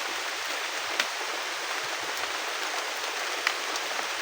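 Steady, dense hiss of rain pattering on surfaces, with a couple of sharper drops striking nearby.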